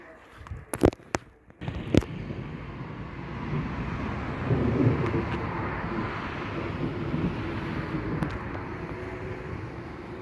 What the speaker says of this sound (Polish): ale grzmi ładnie.